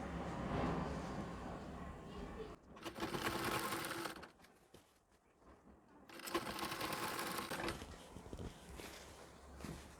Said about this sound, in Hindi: बराबर करते जाना है और सिलाई लगाते जानी है।